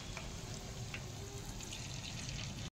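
Egg Maggi pakoras fry in hot oil in a pan, giving a soft, continuous sizzle with faint bubbling. The sound is low and close, with no talking.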